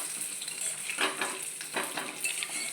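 Potatoes dropped into hot oil fry with a steady, bright sizzle throughout, with a few clinks and stirring scrapes from a pan, close and continuous with no talking.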